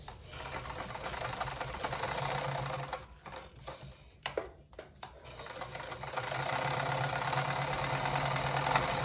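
A sewing machine stitches a girl's ballet flat from the inside, running in a fast, even mechanical chatter. The stitching pauses briefly midway, then resumes steadily, close and fairly quiet, with no voices.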